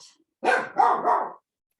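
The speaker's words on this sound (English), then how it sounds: "My dog is defending us" A dog gives a close, loud burst of two or three quick barks, growly and rough, with silence before and after.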